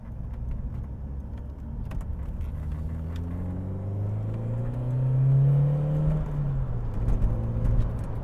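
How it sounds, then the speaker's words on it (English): Alfa Romeo Twin Spark engine revs up through rising, sweeping pitch, peaking loud and close around the middle before easing back, with a steady low rumble underneath throughout. "Oh, that twin spark engine is ace."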